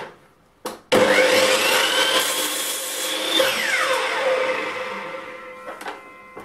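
A miter saw slices through a length of chipboard at a zero-degree setting, starting with a sharp whine and a single sustained, loud cut lasting several seconds before the blade spins down alone.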